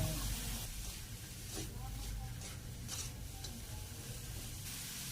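Boiled bamboo shoots sizzle as they are stir-fried in a pan with carrots, a steady close hiss with occasional stirring scrapes.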